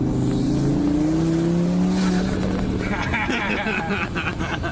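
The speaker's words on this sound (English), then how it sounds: "We're getting passed by the sheriff." A sheriff's car passes close by a parked car, its engine noise swelling and then dropping away over a few seconds, with voices talking throughout.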